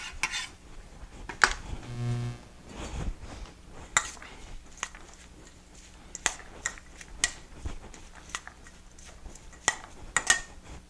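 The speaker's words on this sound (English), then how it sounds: "rough chop on the cilantro" A knife roughly chops cilantro on a cutting board for pico de gallo salsa, giving irregular sharp clicks and taps throughout, with clattering from kitchen utensils nearby.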